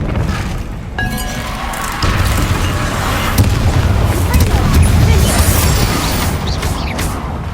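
Repeated booming spell blasts from the Bombarda curse in the Hogwarts Legacy video game, sustained loud crashes and rumbling impacts layered over constant game sound effects, without any talking.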